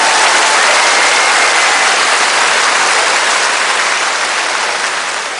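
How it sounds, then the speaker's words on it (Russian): Loud, dense applause from a comedy-show audience after a Little Red Riding Hood sketch, a steady wash of many hands clapping that carries on unbroken and fades slightly at the end. "Итак, ваши аплодисменты"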